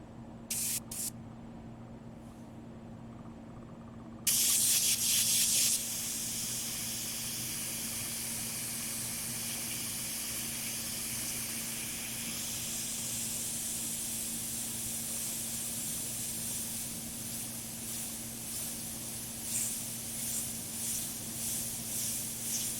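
An airbrush sprays paint through hand stencils with a steady close hiss, broken at the start by short bursts before settling into a continuous spray with faint pulsing.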